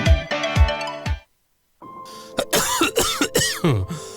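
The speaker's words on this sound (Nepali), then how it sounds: "खोक्न फेरि सुरु भयो है?" A smoker coughs in a short burst of harsh hacks, then falls briefly silent before more coughing mixed with throat clearing and speech, close and fairly loud.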